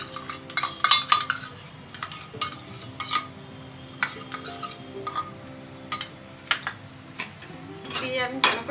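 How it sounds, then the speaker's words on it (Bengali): A spoon stirs chicken mince and fresh cream in a pan for momo filling, sending repeated metallic scrapes and clinks against the pan at an irregular pace over a quiet kitchen background. "দিয়ে আমি ভালো করে নাড়িয়ে দেব"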